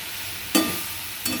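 Spices and two spoons of ginger paste stirred in a pan for a fig and potato curry, two short scraping bursts a moment apart over a soft, steady sizzle.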